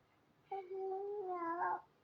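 A cat gives a single drawn-out meow with a rising, wavering end, clear and close against a quiet background, no talking.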